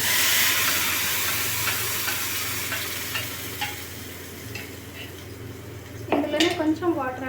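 Chutney goes into a pan of hot tempering and sizzles loudly at first, the frying hiss slowly fading, with a few stirring scrapes and a brief burst of talking near the end.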